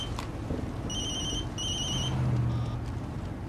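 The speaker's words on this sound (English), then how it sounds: "hold on a second, my other cell phone." A cell phone rings in two short electronic bursts against a quiet room background, brief trilling tones spaced about half a second apart.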